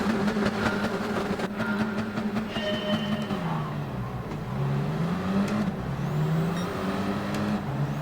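Racing car engines whine and rev at the start of a race at Suzuka in a video game, layered rising and falling engine tones over a constant rumbling bed, fairly loud and continuous.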